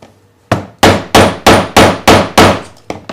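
Hammer whacking a 3D-printed Witcher necklace part flat, seven loud ringing metallic blows in a steady, evenly spaced rhythm, close and alone.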